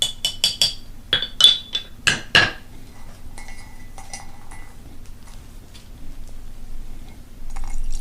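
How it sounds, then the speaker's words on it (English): A spoon clinks against the inside of a teacup as tea is stirred, with a quick series of bright ringing taps near the start and then quieter faint handling sounds. "Okay, time for tea. Give it a bit of a stir."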